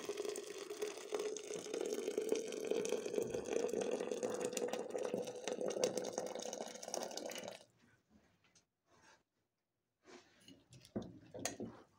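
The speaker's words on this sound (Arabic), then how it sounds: "وهنحط بقى شوية زيت ومية سخنة، اهم حاجة المية تكون بتغلي" Boiling hot water poured for Egyptian fava beans (foul), a steady loud liquid gush for about seven seconds, then stopping, followed by a few faint drips and small kitchen clatters.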